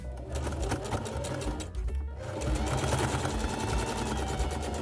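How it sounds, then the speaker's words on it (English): A sewing machine runs steadily as it stitches over a seam on a thrifted garment being altered, giving a continuous fast mechanical chatter with a brief dip partway through, close and loud with no talking. "flip this seam this way and sew over on this side"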